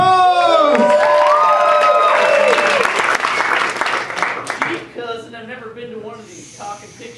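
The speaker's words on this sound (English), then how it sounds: "This is the Cojones of Donuts after a warm round of applause!" An improv show audience bursts into loud applause and cheering that fades out after a few seconds, giving way to performers talking on stage.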